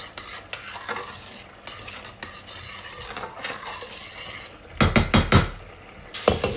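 Risotto rice with mushrooms and chorizo cooks in a pan, giving a soft bubbling simmer, then a few loud clattering knocks of a spoon against the pan near the end, close by and with nobody talking.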